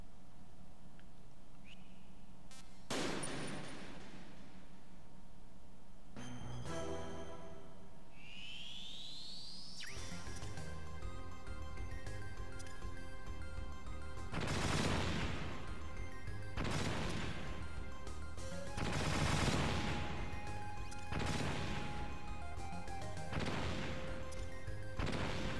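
Grenade blasts in the Metal Gear Solid VR Missions game set off a chain reaction: a few scattered crashes, then a rising run of booming explosions that overlap, loud and close, with whistling debris and ringing tones between.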